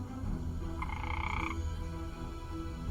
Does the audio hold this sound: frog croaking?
yes